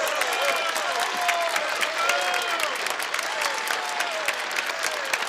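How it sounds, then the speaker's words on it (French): An audience applauds singers in a dense, steady round of clapping with a few scattered cheers, mid-loud and continuous throughout. "On les applaudit très fort."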